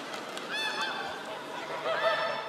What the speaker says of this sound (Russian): Твои гуси гогочут